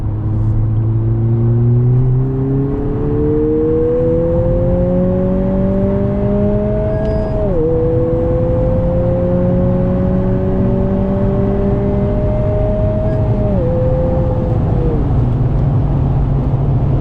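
2020 Honda Civic Si pulling hard in third gear in sport mode from 3,000 RPM, a loud steady engine drone climbing in pitch with brief dips at shifts, heard from inside the cabin.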